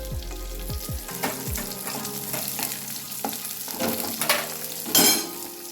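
Onion and green chilli fry with ginger and garlic in a kadhai, a continuous sizzle broken by several clanking spoon strikes and stirring scrapes, a louder burst near the end, and no speech.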